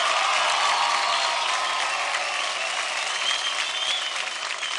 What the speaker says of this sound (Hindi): एक बार जोरदार तालियां ऋतुराज के लिए.